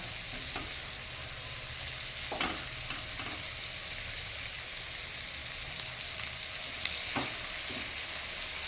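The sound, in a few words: prawns frying in a pan on high flame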